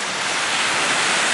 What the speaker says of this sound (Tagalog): Ang alon ay pang surfing.